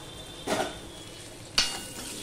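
Spoon scraping through chilli chicken with capsicum in a frying pan, two short separate scrapes about a second apart over a faint steady sizzle.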